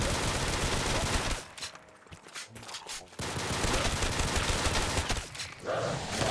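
Gunfire in a moon-set shooter game comes as a rapid, dense fusillade of loud shots, breaking off briefly into a quieter gap before the shooting resumes just as heavily.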